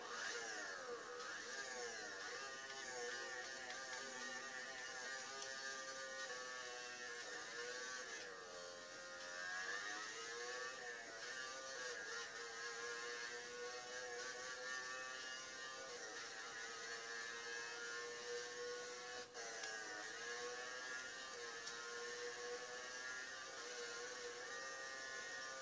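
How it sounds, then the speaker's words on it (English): A motorbike engine in the MotoGP 13 racing game drones as a steady high-pitched whine, its pitch rising and falling with gear changes and throttle, continuous and fairly quiet with no talk. "This is how loud the bike is."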